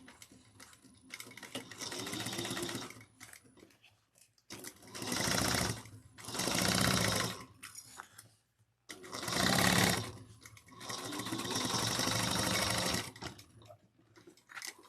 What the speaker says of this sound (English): We're going to sew at a 3/8 of an inch seam allowance.